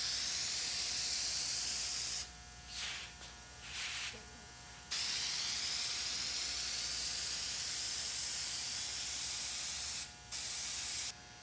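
Aerosol spray painting a truck grille flat black on a Silverado, with a loud steady hiss in bursts: a long spray, several short sprays, then a long continuous pass and a final short burst, with no talking.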